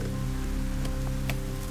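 Steady rain pours outside at night, a dense continuous hiss with occasional heavier patters, close and constant, with no talking.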